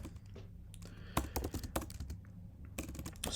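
Typing on a computer keyboard while writing JavaScript code: quiet, irregular clusters of close key clacks, a few quick strokes at a time with short pauses between bursts.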